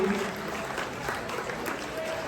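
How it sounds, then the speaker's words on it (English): Guests at a gala dinner applaud in a large room, a soft, steady smattering of clapping with crowd murmur and faint voices underneath. "Steve, stand up and get a nice round of applause"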